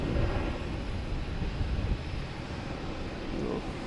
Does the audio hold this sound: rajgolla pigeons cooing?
no